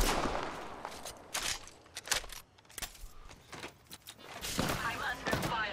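Rapid gunfire from a shooter video game rings out in repeated sharp bursts and volleys, some clustered close together, across the whole stretch over a busy in-game background.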